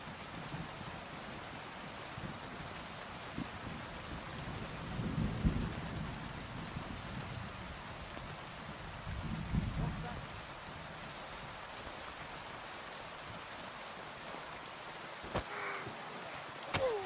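Steady heavy rain in a video game falls throughout, with low thunder rumbling twice in the distance and a brief sharp knock near the end.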